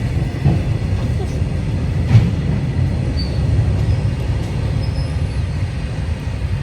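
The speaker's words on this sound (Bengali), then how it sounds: "এখন মাল ট্রেন যাচ্ছে" A freight train rolls past a railway level crossing, a loud continuous rumble of wagons close by, with voices talking over it.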